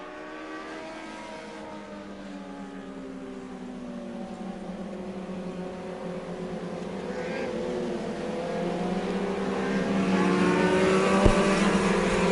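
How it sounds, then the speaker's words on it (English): Race cars circling the Merrittville Speedway track, a passing engine drone with shifting revs that swells louder toward the end, heard from a distance with no voices over it. "Just counting cars on the racetrack."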